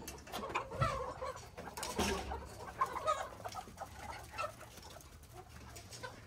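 Chickens cluck and mutter inside a coop, with overlapping calls and rustling making a busy, continuous noise at moderate volume throughout.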